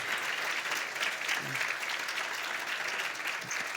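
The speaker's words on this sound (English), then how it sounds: "A round of applause for all our donors" An audience claps steadily for the donors at an awards ceremony, dense sustained applause filling the room at close range without voices.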